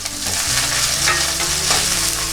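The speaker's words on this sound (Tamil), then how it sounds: "1 டேபிள் ஸ்பூன் ஆயில் போட்டிருக்கேன் நான் பேனில். லைட்டாக ஃப்ரை ஆனோன்னு ஆனியன்ஸ், பூண்டு, இஞ்சி," Onions, garlic, ginger and green chili fry in a tablespoon of oil in a pan, giving a steady close sizzle with a few stirring scrapes and no talking.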